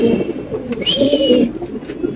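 Pigeons coo steadily at a pigeon farm in Mirpur 13, Dhaka, with low rounded calls overlapping close by, while a few brief higher chirps and rustles sit above them.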